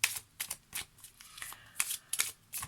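Tarot cards are shuffled close by in quick, crisp bursts of riffling and slapping, about a dozen short rustles across a few seconds in a quiet room.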